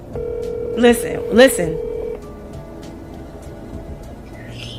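A telephone gives off a steady dialing tone that runs for about two seconds while a voice speaks briefly over it, then goes quiet against low background hiss.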